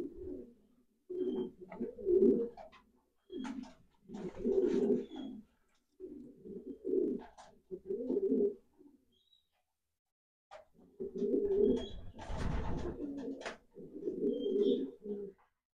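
Racing pigeons coo in a loft in repeated rhythmic bursts of low, throaty calls, close and fairly clear, with short pauses between phrases and a faint rustle in one gap.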